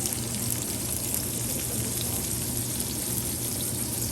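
Shrimp sautéing in butter and garlic in a pan, a dense, steady sizzle and crackle heard close, with no voices over it.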